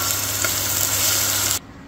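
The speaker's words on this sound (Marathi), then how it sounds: "हा चुरचूर चुरचूर जो आवाज येतो आहे हा कांदा आणि टोमॅटो तळत असण्याचा" Onion and tomato frying in oil at home, a loud, close, continuous crackling sizzle that cuts off abruptly near the end.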